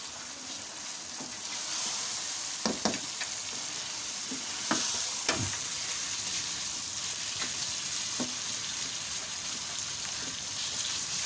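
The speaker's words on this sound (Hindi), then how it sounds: "तकरीबन 1 से 2 मिनट तक इसकी भुनाई करूँगी ताकि इसका कलर वाइट हो जाए" Chicken keema frying in a pan makes a dense, continuous sizzle throughout, punctuated by several sharp scraping knocks of a stirring spoon against the metal.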